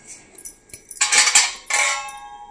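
A sturdy brass bucket with copper coating, including its handle and lid, being handled up close: a few sharp metallic clinks and clanks, with a brighter burst of ringing clatter in the middle and near the end, and no voices.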